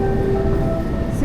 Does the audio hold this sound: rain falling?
no